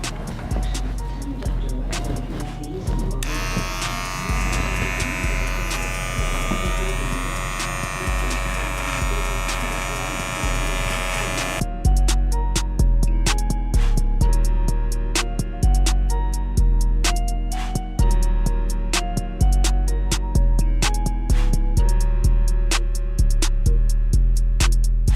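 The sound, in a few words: electric hair clipper running during a bald fade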